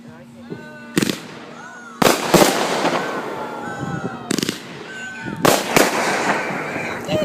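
Fireworks explode close by in sharp, loud bursts, several crackling bangs spaced over a few seconds, each trailing into crackle and fizz, while people talk between blasts.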